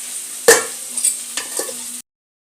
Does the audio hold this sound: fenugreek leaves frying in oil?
yes